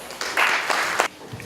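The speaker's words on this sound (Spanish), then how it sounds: "Recibámoslos con fuertes aplausos." A seminar audience applauds in a short burst of scattered hand clapping that swells briefly and then fades.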